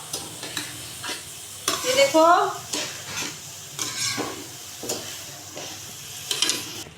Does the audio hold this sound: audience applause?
no